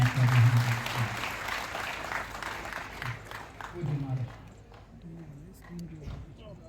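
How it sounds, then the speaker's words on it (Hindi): Audience at a Shrimad Bhagwat Katha religious discourse in Jaipur claps in a loud burst that fades over several seconds, while a voice speaks over the fading applause. "एक बार जोरदार ताली बजाते"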